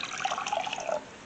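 Hot water splashes and trickles onto peat pots in a seed tray, a soft, continuous pouring and bubbling that tapers off near the end, with no talking.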